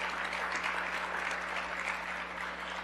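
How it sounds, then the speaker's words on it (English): An audience at a talk by a U.S. congresswoman breaks into a short, even round of applause, a dense steady patter of many hands clapping at moderate volume. "Let's acknowledge that with a little round of applause."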